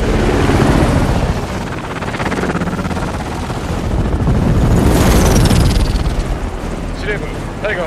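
Helicopter approaching a rooftop for landing in an action film scene, a loud continuous rotor roar that swells and holds throughout with dramatic effects layered on top.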